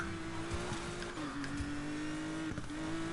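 Car engine in Need for Speed Payback droning steadily while downshifting into a drift, pitch dipping and rising with faint tire noise, continuous and close with no talking.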